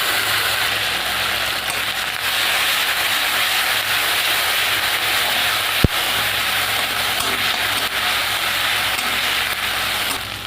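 Mustard and poppy seed paste hits hot oil with nigella seeds and green chillies for a Bengali chilli chorchori, giving a steady, dense sizzling hiss that holds evenly throughout with one sharp click midway.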